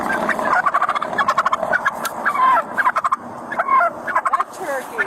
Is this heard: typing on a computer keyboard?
no